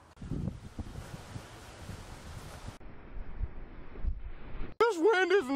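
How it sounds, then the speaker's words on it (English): Wind gusting outdoors on a hunting outing, a steady rough rumble buffeting the microphone close up, easing partway through before someone speaks briefly at the end. "This wind isn't doing so good with my beard."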